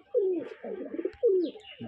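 A male red tumbler pigeon coos close by, three loud rolling, descending coos in quick succession with short gaps, clear and alone without talk.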